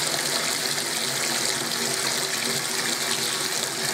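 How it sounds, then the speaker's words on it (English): Warm water gushes steadily from a tap into a sink, a loud, close, unbroken rushing splash with no talk. "fill your sink with some sort of hand warm water"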